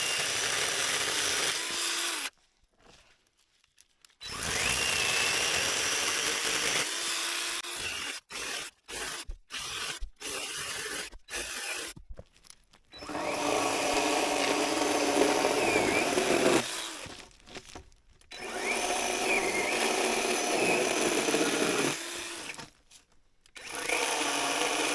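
Power saw cutting firewood beside an outdoor fire pit on a cold night, loud sustained whining bursts that stop and restart several times with short silent gaps between cuts.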